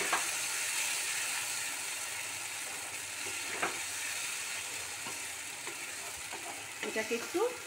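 Spice paste sautés in oil in a wok with a soft, continuous sizzle, faint and fairly distant, broken by a few light scrapes and clinks of stirring toward the end.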